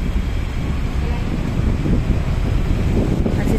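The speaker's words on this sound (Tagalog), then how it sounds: "Ayan, medyo mahangin na guys." Strong wind buffets the microphone outdoors in Hong Kong before typhoon signal 8, a loud, steady, gusty rumble throughout with a person talking over it.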